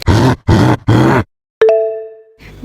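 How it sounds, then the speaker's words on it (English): A gorilla gives three deep, rough grunts in an even rhythm, loud and close. A brief ringing tonal sound and some faint noise follow. "This is gorilla."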